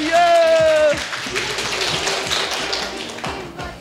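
A group of children claps in a classroom, a burst of scattered applause that follows a short spoken phrase and continues at a steady, moderate level before tapering off.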